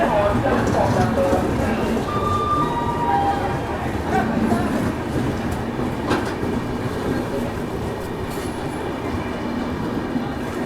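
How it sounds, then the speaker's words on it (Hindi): The Raxaul–LTT Antyodaya Express departs Prayagraj Shivki junction with a loud, continuous rumble and rattle of wheels and carriages, and a voice talks over the noise. "रक्सौल लोकमान्य तिलक अपनी अंत्योदय एक्सप्रेस प्रयागराज शिवकी से डिपार्चर करता हुआ"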